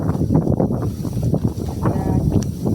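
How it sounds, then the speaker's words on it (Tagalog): Strong wind buffets the microphone outdoors near a riverside area with huts, producing loud gusty low rumbling and rushing noise that swells and dips throughout. "Wow, lakas ng hangin."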